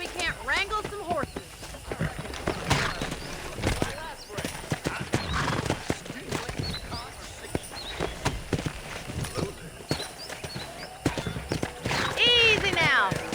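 Horses in the Red Dead Redemption video game: clip-clopping hooves, snorts and a whinny amid game ambience, with characters talking over the action and a sharp neigh rising near the end.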